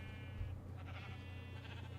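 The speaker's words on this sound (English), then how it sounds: "There's so many sheep." Sheep bleat in The Crafting Dead, a Minecraft-style game, with a couple of close, overlapping nasal bleats above a steady low hum and no talk.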